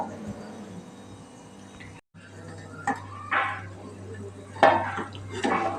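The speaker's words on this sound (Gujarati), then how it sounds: "એને શાકને આપણે ઉપર નીચે કરી લેવાનું વચ્ચે વચ્ચે આપણે હલાવતું રહેવાનું" Eggplant curry is stirred in a pot with a spoon. Soft scraping is broken by a few sharp metal clinks against the pot, close and moderately loud, over a low steady hum.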